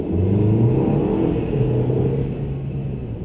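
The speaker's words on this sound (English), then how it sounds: "definitely for a 4-cylinder turbocharged car, it does have a good amount of torque and get up and go" A 2017 Mercedes E-Class with a turbocharged four-cylinder engine accelerates from a standstill, its steady engine drone and road rumble held loud and close throughout, rising gradually as it pulls and holds the gear longer.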